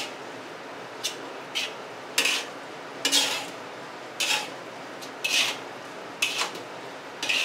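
Caramelized onions, minced pork and soy sauce are stirred in a pan, a utensil scraping and knocking against the metal in short, regular strokes about once a second over a faint, steady background.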